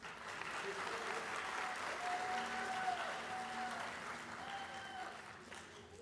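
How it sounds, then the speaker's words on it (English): Audience at a school district Teacher of the Year celebration claps for a middle school teacher, a sustained round of applause with a voice speaking over it at moderate level. "Big round of applause for Troney."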